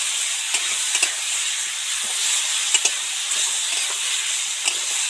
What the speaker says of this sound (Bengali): ওটা একটু তেলের সাথে ভাজা হয়ে যাবে